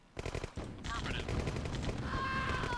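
Rapid machine-gun fire and gunshots crackle in the video game C&C Brotherhood 2, dense bursts over a constant background of battle noise, with voices heard among the shots.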